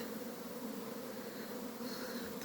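Honeybees working at their hives, a soft continuous buzzing drone that stays steady and fairly faint for a couple of seconds, with no voices.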